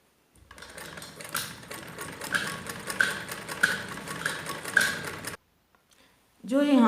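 A domestic sewing machine stitches a zipper onto an umbrella gown, its needle chattering in a fast steady run for several seconds before stopping, with a brief pause and then a voice speaking at the end.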